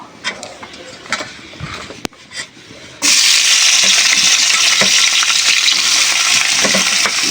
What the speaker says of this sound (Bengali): শুটকি মাছটা এবারে আমি ভেজে নেব।